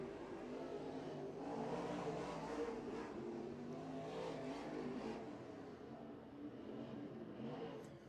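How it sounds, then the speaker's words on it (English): Modified race cars run laps at the East Bay racetrack during a winter week-night race, giving a distant, steady engine roar that swells and fades, heard faintly and without talk. "Next group on the racetrack, Chris Wilson in car 17 leads them out."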